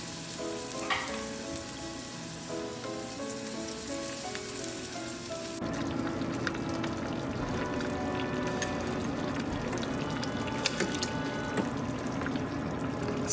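Vegetable broth pours into a cooking pot, a sudden steady wash of liquid that starts partway through, over earlier bubbling and sizzling, close and fairly loud.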